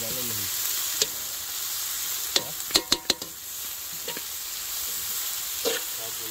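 Onion and chili fry in oil for a village fish curry, a steady bright sizzle with a few sharp metallic taps of a spoon against the pan.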